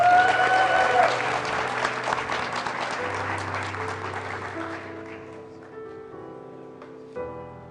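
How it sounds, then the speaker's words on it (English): Applause from a ceremony audience for newly inducted engineers, dense clapping that is loud at first, then thins out and fades while a sustained organ-like musical tone plays underneath, with a brief swell near the end. "Let's give another round of applause for our enterprise and logistics engineers."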